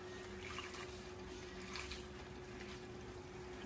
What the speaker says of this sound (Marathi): परत एकदा धुवते